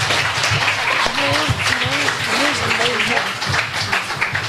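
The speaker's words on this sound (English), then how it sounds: "we give our young people a clap" Sustained audience applause, dense steady clapping from a crowd, with a voice and some musical tones rising over it midway.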